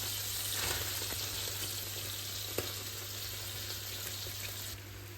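Onion added to melted butter in a frying pan while cooking beef Wellington, giving a steady, fairly quiet hiss and sizzle with a brief clack partway through, no voices.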